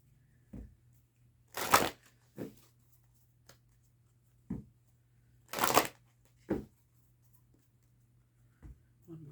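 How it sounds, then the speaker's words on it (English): A deck of Fairy Forest oracle cards is shuffled by hand indoors, giving a few short, soft riffling bursts and light taps spaced across a quiet room with a low steady hum. "One more shuffle."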